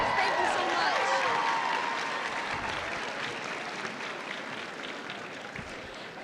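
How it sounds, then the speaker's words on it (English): Sustained audience applause at a cosplay contest during a comic convention, a dense steady wash of many hands clapping that fills the space and slowly tapers toward the end. "Give a round of applause."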